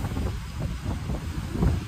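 Strong wind buffeting the microphone on a Konkan beach with waves rolling in, a steady low roar throughout with slight gusts, no voices.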